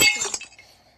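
Glass panel placed in a building game, a single bright glassy clink and chime that rings briefly and fades quickly, close and clear with no talking.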